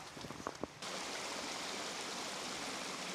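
A mountain valley stream flows among snow and rocks on a winter hike up Garisan in Hongcheon, a steady broadband rush of water, close and even, with a few soft footstep-like knocks at the start.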